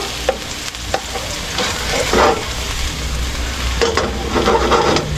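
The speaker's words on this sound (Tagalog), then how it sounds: "gisa lang natin itong bawang" Garlic sautéing in hot cooking oil in a pan, a steady close sizzle broken by sharp clanks and scrapes of a utensil stirring, with no voices.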